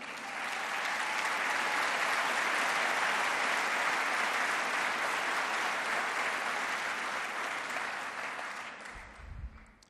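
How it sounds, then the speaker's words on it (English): A large audience at Nashville's State of Metro address gives sustained, loud applause for about nine seconds before it tapers off and fades. "Dr. Lawless, will you please stand and get another round of applause?"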